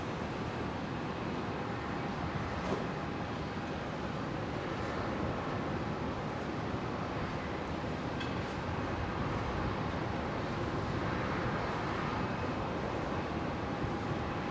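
An aircraft departing from runway 19 right at Brisbane Airport, a continuous broad engine roar heard from a distance, steady and unbroken throughout with no voices.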